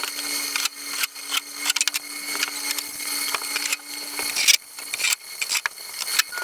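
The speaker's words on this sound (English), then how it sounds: "we'll go ahead and sink some screws into the floor to anchor it down." A power driver sinking screws through ultralight aluminum cabinets into a van floor: repeated short whirring bursts with clicks and scraping between them, close and fairly loud.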